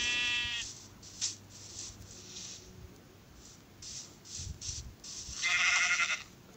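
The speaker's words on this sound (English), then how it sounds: "I'm gonna leave those sheeps alone" Video-game sheep bleat at the start and again toward the end, the last call louder and longer, with faint soft tapping sounds in between.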